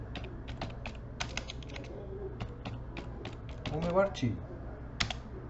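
Keys clack in irregular bursts on a computer keyboard as an article is typed, close and fairly quiet, with a person speaking Portuguese partway through.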